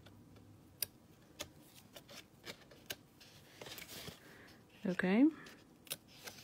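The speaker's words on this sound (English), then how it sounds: "this little square, or funky square I should say, we're gonna cut it out" Scissors snipping out a small paper square for a Christmas craft, a series of sharp quiet clicks spaced irregularly, with a brief spoken word partway through.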